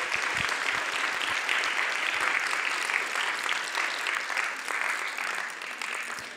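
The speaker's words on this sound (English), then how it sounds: "Do you want to come up here and get an applause?" An audience claps for a winning team at a summit event, a dense, sustained round of applause that holds steady throughout and fades slightly at the end.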